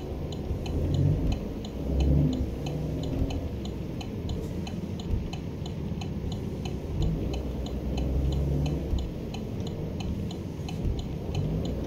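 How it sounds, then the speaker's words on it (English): A car in American Truck Simulator gives a continuous low engine rumble, with a steady, faint ticking that repeats throughout and no voices. "We hear a car."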